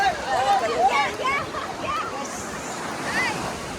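Sea waves wash steadily against the shore at Somnath in a continuous surf hiss while voices chatter nearby, louder at the start.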